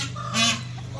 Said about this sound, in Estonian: näe, seal on üks suur kukk